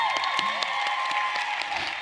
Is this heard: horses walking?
no